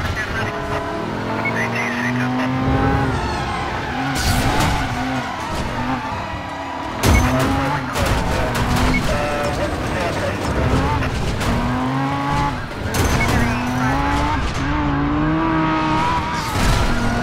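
Car driving and tyres skidding in the video game Driver San Francisco, a continuous loud engine roar with rising and falling revs and bursts of tyre squeal, with voices talking over it.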